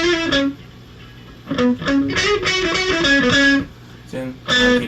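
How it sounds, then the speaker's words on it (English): A distorted electric guitar plays a bluesy lick of bent, sliding notes in short phrases with brief pauses, loud and close, alone. "It's almost like a blues guitar lick."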